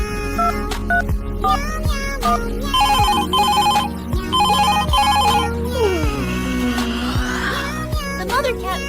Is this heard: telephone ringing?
yes